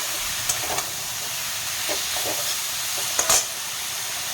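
Spice paste of cumin and coriander powder with a splash of water is frying with winter vegetables for a rohu fish curry, giving a faint, steady sizzle broken by a few soft stirring scrapes.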